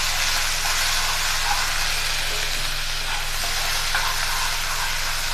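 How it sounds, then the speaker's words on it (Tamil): Soya chunks with cumin and ginger garlic paste fry in a pan, giving a steady close-up sizzle and hiss over a low background hum, with no talking. "இப்போ இது அப்படியே நல்லா பொரிக்கணும்லாங்க."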